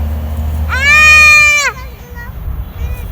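A goat lets out one loud, wavering bleat close by, lasting about a second, over a low hum and faint background noise.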